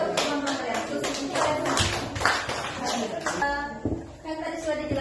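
Students in a classroom clap together in a burst of brisk, overlapping applause, with voices mixed in as the clapping fades toward the end.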